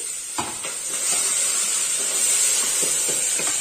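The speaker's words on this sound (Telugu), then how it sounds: "ఇవన్నీ ఇలా వేగుతుంది కదా, పుదీనా, మెంతాకు, తర్వాత అల్లం వెల్లుల్లి పేస్ట్ వేగుతుంది కదా" Mint, fenugreek leaves and ginger-garlic paste fry in a pan for a Telugu mutton cashew curry, giving a steady, close sizzle and hiss with a few soft stirring scrapes and no talking.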